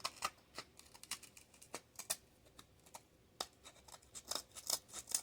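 Scissors snip along the edge of grip tape on electric unicycle pedals, a quiet, close series of irregular crisp cuts and scratchy rustles with short pauses between.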